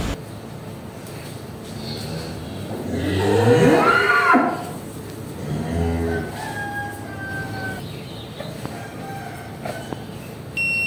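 Cattle on a farm moo in two long, loud calls a couple of seconds apart, with a faint rooster crow and birdsong in the background.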